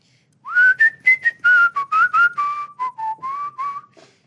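A man whistles a melodic tune alone, a run of about a dozen clear, close notes in short phrases, some sliding and some held, with no talk over it.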